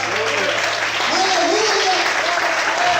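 Congregation clapping steadily together during worship in a church, dense and continuous, with voices singing and calling out praise mixed into the applause.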